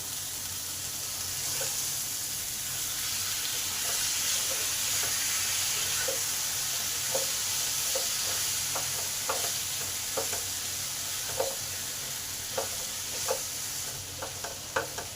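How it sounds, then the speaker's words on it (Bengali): Ridge gourd with ground spice paste sizzles in a pan, a steady frying hiss broken by scattered scraping stirs that grow more frequent toward the end. "মশলাটাও কষা হয়ে যাবে ঝিঙ্গুর কষা হবে"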